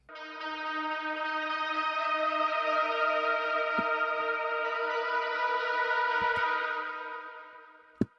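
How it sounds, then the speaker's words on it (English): A sustained electric guitar lead note in a modern metal mix rings out, drenched in heavy Supermassive reverb, holding steady for several seconds before slowly fading away. "And then I'm also adding a little bit more reverb with Supermassive."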